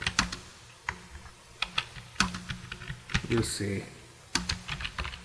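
Typing on a computer keyboard, irregular bursts of clicking keystrokes close by, quiet, with a person speaking between and over the taps.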